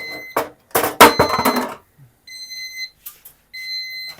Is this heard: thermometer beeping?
yes